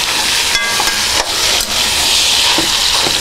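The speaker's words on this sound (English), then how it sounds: "Get that kind of stirred in there and broken up a little bit" Coney meat sauce browns in a pan with a steady, loud sizzle while a spoon stirs and breaks up the meat, scraping in a few sharp strokes. No one talks.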